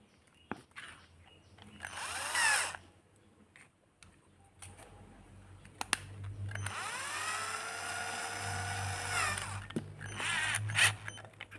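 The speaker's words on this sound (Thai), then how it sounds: "เราจะใช้ตัวช่วยคือ สว่านไฟฟ้านะครับ" An electric drill whirs in short bursts and then in a longer spin, driving sandpaper to clean a soldering iron tip, with rising and falling motor whine between quiet pauses.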